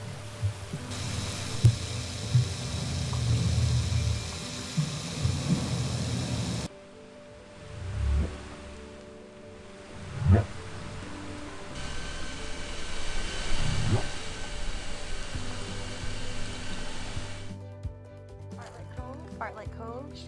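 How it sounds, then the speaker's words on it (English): A male harbor seal roars underwater during mating season, caught on a hydrophone in Glacier Bay, Alaska. Low, throbbing bursts pulse over a steady hum and shifting background noise. "that's the sound of a male harbor seal roaring because it's the mating season."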